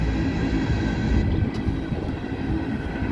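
A CSX freight train of rotary dump cars rolls past, a loud continuous low rumble of wheels and cars with steady broadband noise and a brief sharp squeal partway through.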